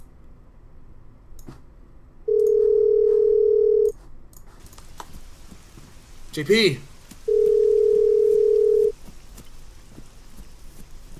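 Two steady electronic ringing tones from an incoming call in a battle royale video game, each lasting over a second, sound a few seconds apart, with people talking around them and a brief burst between.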